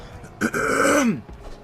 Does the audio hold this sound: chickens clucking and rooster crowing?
no